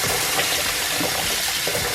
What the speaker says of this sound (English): So we fill this up with water.